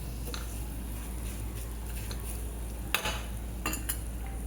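A metal spoon stirs a tempering of spices through a shaapu greens bhaji in a pan, giving faint scraping clicks over a soft steady sizzle with a few sharper knocks near the end, and no talk.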